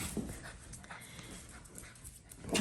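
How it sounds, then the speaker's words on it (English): Small toy schnauzer puppies pant and snuffle up close while playing, with a faint whimper and a louder burst of movement near the end. "Wanted to show you some puppy play going on this morning."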